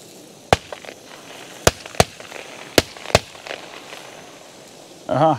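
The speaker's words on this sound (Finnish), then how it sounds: "siellä ammuttiin ohi menevää kyyhkyä" Several sharp, distant shotgun shots ring out across open country during pigeon hunting near a feeding site, five separate cracks spaced irregularly, followed by a brief burst of other noise at the end.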